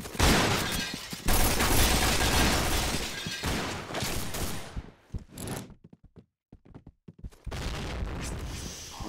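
Dense, rapid gunfire from the online shooter game Point Blank crackles in bursts at close range, dropping into near-silence midway with a few isolated shots before the shooting resumes.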